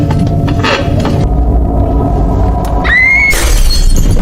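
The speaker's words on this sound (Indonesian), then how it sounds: "Namun pecahan kaca toples membuat kempole Alice metu getihe." A glass jar shatters after falling from a table, a loud crash with a bright ringing tinkle of breaking glass over a dense rumbling film soundtrack.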